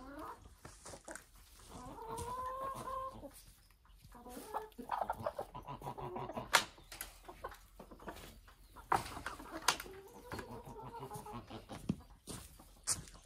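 A hen clucks in bursts while being caught in a farmyard animal shed, her calls rising and falling over scuffling, with brief quiet gaps; a person's voice occasionally mixes in.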